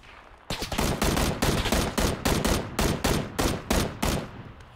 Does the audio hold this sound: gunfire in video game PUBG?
yes